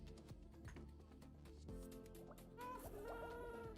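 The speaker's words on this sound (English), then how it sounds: "A parrot, yep, parrots in Minecraft." Parrot chirps in the Minecraft video game, a few short squawking calls near the end over steady in-game music and background sounds.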